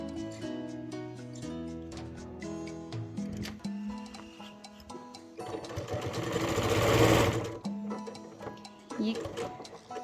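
Sewing machine stitching around the edge of a fabric iPad pouch, its rapid mechanical whirr running in stretches and swelling louder partway through, with a voice speaking over parts of it.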